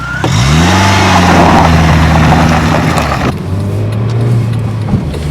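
A Peugeot 106 Quiksilver's 75 horsepower engine hums and revs as it drives, the pitch rising, then dropping after a gear change before steadying again.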